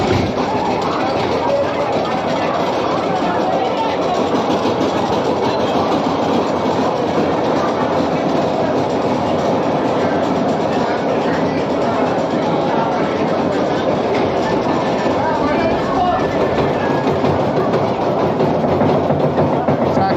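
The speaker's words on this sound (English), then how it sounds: "Woohoo! Calamity Mine Train." The Calamity Mine Train, a 32-year-old roller coaster with a dual lift hill at Walibi Belgium, rattles and clatters along its track with rumbling wheels and occasional squeals, close and loud for the whole stretch, with riders' shouts mixed in.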